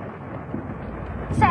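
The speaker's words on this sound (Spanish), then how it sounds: "Nadie saldría con esta tormenta." A thunderstorm heard from indoors, a low rumbling roar with rain that swells toward the end, and a voice begins over it at the close.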